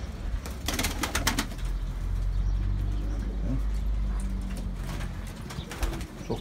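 Postal pigeons in a large four-section loft coo in low, soft, repeated murmurs, with bursts of wing flapping, amid steady background rumble.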